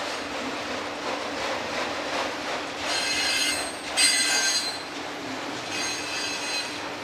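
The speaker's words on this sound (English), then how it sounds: "That sounds like that one's a flat tire." A railroad car whose wheel has a flat spot rolls along the rails, with steady close rumbling and bursts of high metallic wheel squeal in the middle stretch; no distinct thumping beat stands out.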